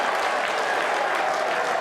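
Warm applause from a football crowd at a stadium during an AFC Wimbledon versus Swindon Town match, a steady, dense wash of clapping at moderate level.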